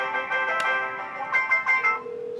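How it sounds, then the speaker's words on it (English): A mobile phone rings with an incoming call routed through a Sametime IP PBX phone system: a loud, close electronic ringtone with a repeating melodic pattern and sustained tones, heard alone. "where I've set it up to ring his mobile phone"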